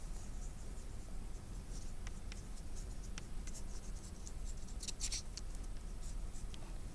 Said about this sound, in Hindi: इस कैंडल से हम कुछ लिखते हैं।